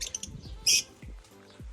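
Personata lovebirds chirping while mating: a few short, bright tweets with one sharp, louder squawk near the middle, fairly close, between low thumps.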